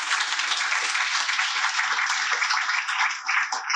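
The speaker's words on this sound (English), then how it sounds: "So how about a round of applause for all of our volunteers?" A crowd at an annual association meeting gives its volunteers a round of applause, dense and steady clapping heard close, lasting the whole stretch and dipping slightly near the end.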